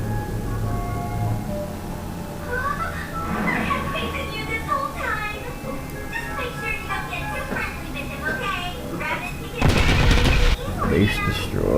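Bombs from a Stirling B Mk I bomber exploding at low altitude in a flight game: a droning engine bed, then one loud burst of blasts near the end.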